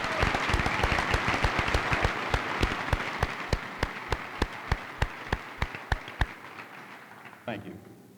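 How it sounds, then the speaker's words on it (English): Audience applause at a high school graduation ceremony, a dense wash of clapping with sharp, evenly spaced loud claps standing out on top, fading near the end as a voice begins. "Let's have a round of applause for these deserving students."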